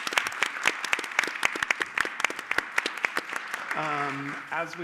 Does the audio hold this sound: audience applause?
yes